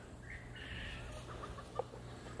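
A few soft chicken clucks sound nearby against a quiet outdoor background, brief and scattered.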